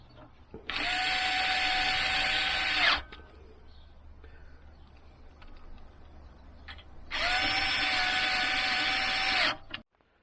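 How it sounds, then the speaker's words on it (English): Screws driven in with a power driver to fix a power supply into a Dell Optiplex 3020 PC case, two loud steady whirring bursts of about two seconds each, separated by quiet handling clicks, close up. "that's the power supply screwed in place"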